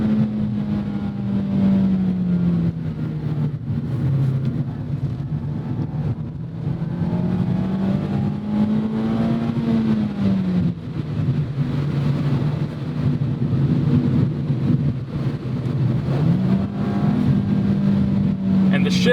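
A Mazda MX-5 Miata with a six-speed automatic is driven from inside the cabin, a steady engine drone rising and falling in pitch as it shifts gears, loud and continuous.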